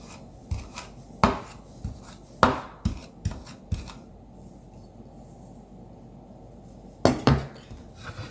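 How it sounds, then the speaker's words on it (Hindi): Salad ingredients being finely chopped with a knife on a board: sharp, separate cuts, a few close together at first, then a long quiet gap before two more cuts near the end. "जरा इसको बारीक बारीक चॉप करूंगी।"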